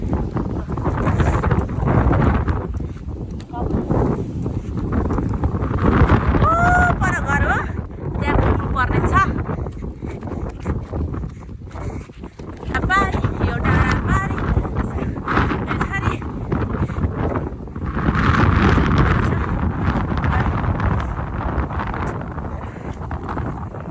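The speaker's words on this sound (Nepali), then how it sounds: "यस्तो हावा चलेको छ" Strong gusts of wind buffet the microphone in a loud, rumbling roar that swells and dips, with people talking underneath.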